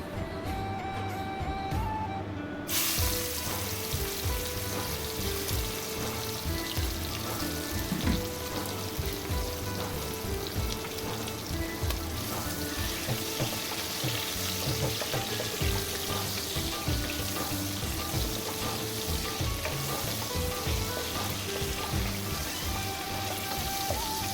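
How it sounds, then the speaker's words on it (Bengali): Prawns marinated in salt and turmeric fry in hot oil with a steady, dense sizzle and crackle that stays loud and close throughout, with no talking. "চিংড়ি মাছটায় দেখো আমি নুন হলুদ মাখিয়ে আগে থেকে রেখে দিয়েছিলাম সেটা এবার ভেজে নিচ্ছি"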